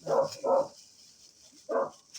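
Two quick barks from a dog outside at night, a pause, then a third bark, moderately close, over a steady hiss.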